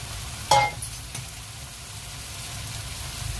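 Chopped bottle gourd tips into cooked-down masala in a pan with one short clattering burst, then a faint, steady sizzle lingers close by.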